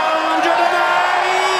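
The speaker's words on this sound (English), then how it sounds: "Biggest cheer of the night." A darts crowd roars and whoops after a 180 in a semi-final between Martin Adams and Martin Phillips, a loud, dense, sustained cheer filling the whole moment with no gaps.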